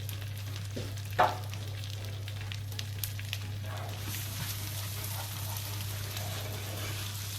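Rice for pilaf fries in a pot with a soft, steady sizzle, punctuated by a sharp clink of a utensil and a few light stirring scrapes over a constant low hum.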